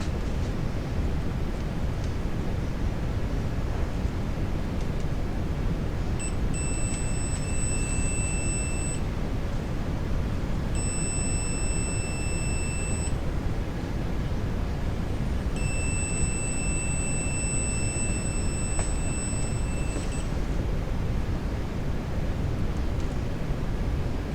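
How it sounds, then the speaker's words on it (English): A multimeter's continuity buzzer sounds high and electronic in three sustained bursts of a few seconds each, separated by pauses, over a steady background hiss, as a float level switch's contacts open and close. "a buzzer can be heard from the multimeter due to the opening and closing of the contacts"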